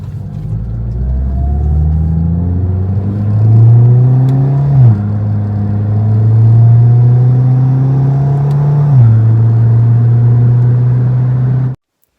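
A car engine fitted with a DIY intake and a Go Fast Bits DV+ diverter valve revs up steadily twice, each climb ending in a sharp drop and whoosh as the throttle closes. It runs loud and close with no voices, then cuts off abruptly.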